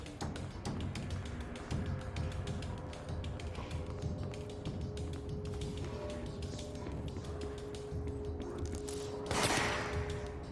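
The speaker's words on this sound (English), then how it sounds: "Who shot at me?" Gunshots in the video game Control, a rapid, steady rattle of quiet gunfire running the whole time with a brief louder burst near the end.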